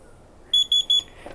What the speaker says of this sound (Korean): 이 상단에 있는 버튼과 이 뒤에 있는 후면 버튼을 동시에 5초간 누르면 삐 소리와 함께 리셋이 됩니다.